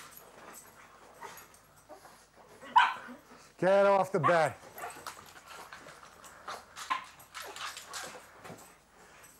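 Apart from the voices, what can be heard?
dog barking and whimpering excitedly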